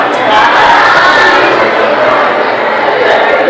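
Dense, loud crowd din in a packed Borivali railway station, a continuous roar of many voices blending into one heavy wash of noise.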